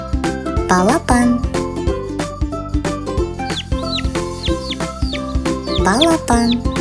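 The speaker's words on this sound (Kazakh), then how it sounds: "Балапан." Baby chick peeping in short, rising chirps scattered over loud, continuous background music, with no clear isolated calls.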